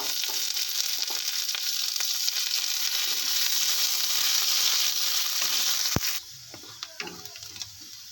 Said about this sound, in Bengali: ভালো করে ফ্রাই হয়ে গেলে এবার আমি কেটে রাখা পেঁয়াজ কুচিটা দিয়ে দিচ্ছি